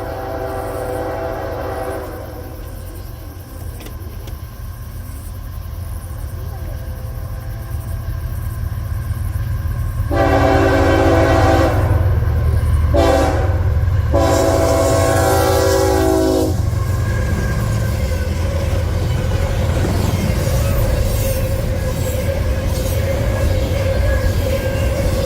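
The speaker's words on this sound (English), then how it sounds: "I caught CSX I-007 heading west with CSX 1875 trailing second" CSX freight train I-007 rolls past westbound with CSX 1875 trailing second, a deep continuous rumble of engines and railcars, with several loud horn blasts sounding close by through the middle.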